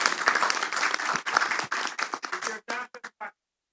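A room of poker industry workshop attendees breaks into steady applause, many hands clapping together before the sound thins into a few scattered final claps and stops.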